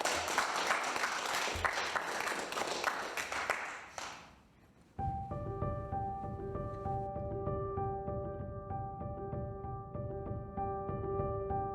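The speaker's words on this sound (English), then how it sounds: "Please, wherever you are seated, give a warm applause for Dr." An audience applauds Dr. Wes Bellamy at a Martin Luther King lecture, a dense wash of clapping that fades out after about four seconds before steady music takes over.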